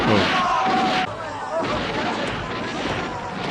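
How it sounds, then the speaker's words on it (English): A battlefield explosion from the 1970 film Waterloo booms loudly at the start, followed by rumbling, crackling aftermath and distant battle noise, with people talking over it. "Oh, explosion!"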